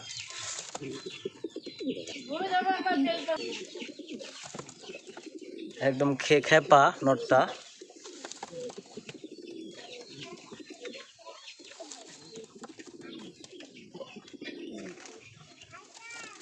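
Pigeons, a young homing pigeon and a visiting pigeon, cooing nearby in soft, repeated bursts mixed with talking throughout, with one louder flurry midway.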